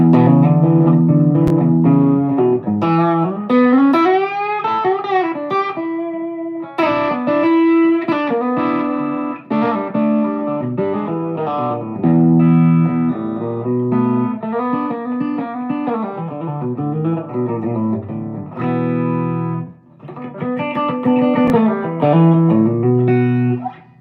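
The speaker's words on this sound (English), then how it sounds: "that kind of gritty sound you're hearing is some reverb and slapback from the HX" Electric guitar with a Wampler Tumnus pedal playing a melodic line with a gritty, distorted tone, washed in reverb and a short slapback echo from a Line 6 HX trailing each note, loud and continuous.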